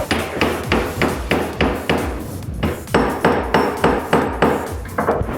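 Repeated sharp metallic hammer strikes on a silver pendant, steady rhythm of about two to three blows per second with a short pause midway, close and loud.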